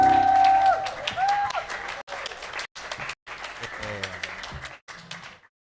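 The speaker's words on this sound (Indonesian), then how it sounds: "Yang merasakan sukacita hari ini, boleh tepuk tangan yang paling keras." Children in a church burst into loud applause during a Sunday school Christmas service, a dense wave of clapping that comes and goes in bursts with brief pauses, mixed with voices and a sustained tone at the start.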